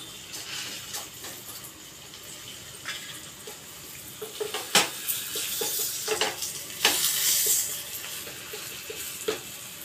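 A paratha fries in oil in a home kitchen pan, a steady close sizzle with occasional sharper scrapes and clatters of a spatula, no talking.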